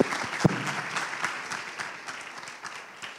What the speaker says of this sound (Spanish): Nadia, claro que sí, un aplauso